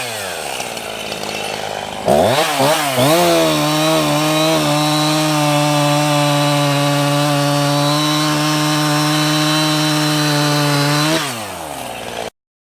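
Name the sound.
gas chainsaw starting and running, Stihl or Husqvarna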